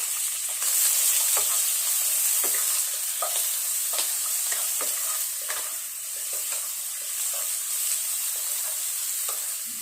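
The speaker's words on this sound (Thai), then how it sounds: "ใส่กระเทียมตัดหอมหอมนะคะ ก็ใส่กุ้งค่ะ" Shrimp and garlic stir-fried in a pan for a Thai home breakfast, giving a steady bright sizzle throughout with scattered clinks and scrapes of a utensil stirring against the pan, close and alone with no talk.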